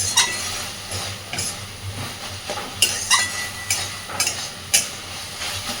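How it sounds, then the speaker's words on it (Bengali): A spatula scrapes and stirs a frying mash of prawns and taro flowers in oil, giving a steady low sizzle with repeated sharp scraping strokes at an uneven rhythm, close by and with no talking. "এইভাবে খুন্তি দিয়ে দিয়ে ভালো করে ঘেটে দেবো"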